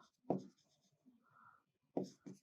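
Marker or chalk scratches across a classroom board in short strokes, with a pause and a faint squeak between bursts, close and fairly clear with no talking.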